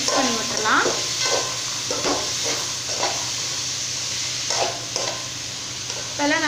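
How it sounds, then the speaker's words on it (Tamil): Cauliflower and peas sizzle steadily in a hot pan for a kurma, with a spoon stirring and scraping through them in several distinct strokes over the constant close frying hiss. "பட்டாணி சேர்த்துட்டு நல்லா ஒரு முறை மிக்ஸ் பண்ணி விட்டுடலாம்."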